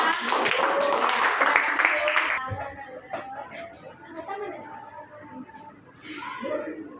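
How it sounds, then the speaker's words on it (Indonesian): A burst of group clapping for a group in a church youth session, lasting a couple of seconds, fading out as a voice starts speaking in a room. "tepuk tangan untuk kelompok 2"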